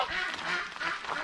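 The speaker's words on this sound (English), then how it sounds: "Dogs, ducks, geese." Ducks and geese call together outdoors in Alaska, a steady, overlapping chorus of nasal quacks and honks at moderate distance, fairly faint and continuous.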